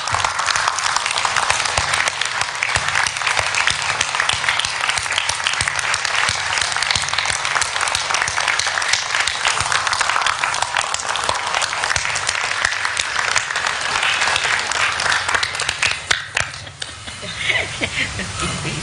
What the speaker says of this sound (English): I think one more applause is called for. In fact, I would ask for a standing ovation for all of our elders.